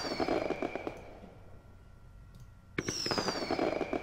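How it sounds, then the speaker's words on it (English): Fireworks in The Simpsons: Tapped Out mobile game: rapid crackling bursts with whistling rises, a short lull, then a second loud volley of pops and crackles. "Whoa! Fireworks!"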